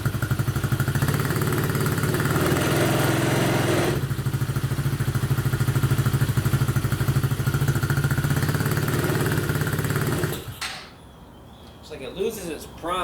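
A Coleman AT125UT ATV engine idles steadily as it warms up, a loud, even, close-up putter with a slight dip partway through, then cuts off abruptly, leaving faint clatter.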